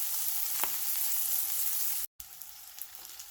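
Salmon fillet frying in minimal oil in a pan until golden brown and crispy, a steady broadband sizzle with faint pops and a brief dropout, no talking.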